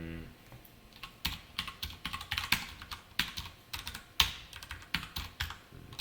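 Java code is typed on a computer keyboard, with close, crisp keystrokes in irregular bursts and short pauses in a quiet room.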